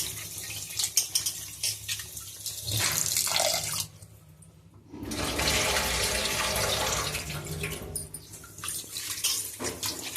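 Raw chicken pieces being rinsed in turmeric water, with close running and splashing water that pauses briefly partway through, then resumes steadily.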